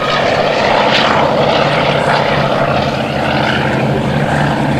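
Propeller aircraft engine droning loud and steady as its landing gear retracts, a continuous close roar with no talk.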